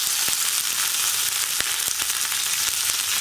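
Dried red chili cut into three pieces and curry leaves frying in hot oil with mustard seeds, a loud, close, steady sizzle with scattered sharp pops and crackles, no talking.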